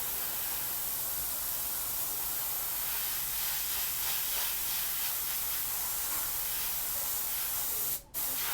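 Spray paint hisses from an aerosol can onto a stencil in a steady, close, continuous spray, broken by a brief gap near the end before resuming.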